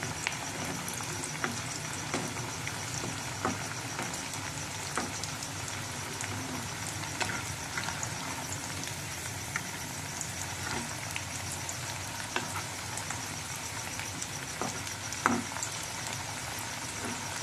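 French fries seasoned with salt and turmeric crackle continuously in hot oil, a dense, even sizzle with scattered sharp pops throughout, no voices.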